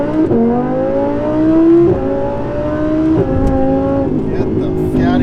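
A supercharged Audi R8 V10 pulls hard in a launch, its engine note climbing loudly through rising revs with brief dips at gear changes, close and dominant the whole time.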